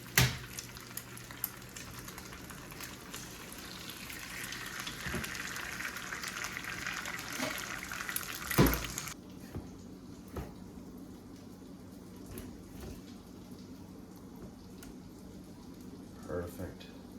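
Sunny side eggs hit hot fat in a pan, sizzling loudly for several seconds before the crackle drops to a faint, steady spatter, with voices talking over it.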